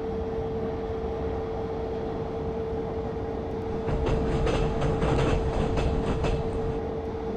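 A train running on rails toward Hanover and Celle, a steady loud rumble with rhythmic clicks of wheels over rail joints growing stronger midway, heard from inside with no talk.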